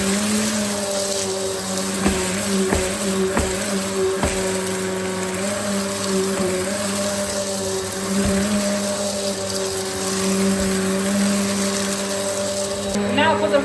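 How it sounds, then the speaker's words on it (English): A Hoover High Performance Swivel Pet XL vacuum cleaner runs steadily along the edges of a floor, a loud constant motor whine and airflow roar with a few knocks as it moves, while a person talks over it. "now we're going to see how well the Hoover cleans up to the edges."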